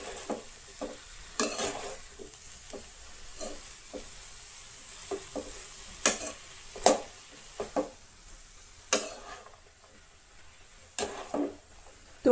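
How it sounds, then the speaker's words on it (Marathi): A utensil stirs cooked spinach in a pan, producing soft scraping and clinking strokes at irregular intervals over a faint, steady sizzle, close and fairly quiet, with no voices. "आतां ही मिक्स करून घेया मातशीशी"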